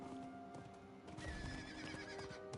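Horse in the Diablo IV video game letting out a whinny, accompanied by clip-clopping hooves, heard over a dense in-game music and ambience bed at low overall level.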